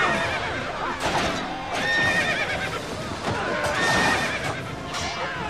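Horses neighing in the video game Bladestorm amid a noisy battle, loud whinnies rising over a dense wash of clattering hooves and combat din.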